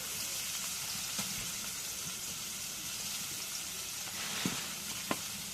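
Pangasius fish pieces frying in a wok, a continuous dense sizzle of oil held at a fairly even level, with a few faint clicks and knocks of a utensil near the end.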